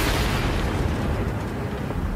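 In World of Tanks, a tank cannon fires and explodes in a heavy, sustained rumbling boom that fills the whole stretch at a steady loud level, with no voices over it.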